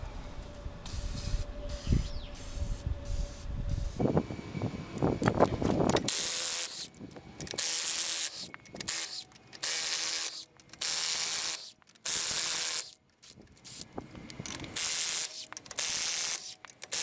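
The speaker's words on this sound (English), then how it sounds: "behold, penetrating oil" A spray can of penetrating oil fires in a run of short, loud hissing bursts separated by brief pauses, after some quieter handling noises at the start.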